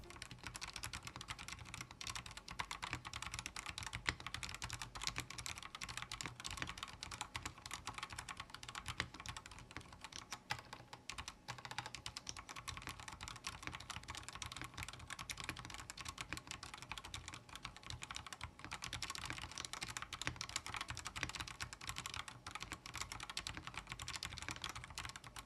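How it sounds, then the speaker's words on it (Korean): Steady, continuous typing on a Redbean The Better A1 mini mechanical keyboard with red switches, close and fairly soft, with rapid overlapping keystrokes and no voices. "레드빈 더베러의 적축 스위치 타건 바로 들어가도록 하겠습니다"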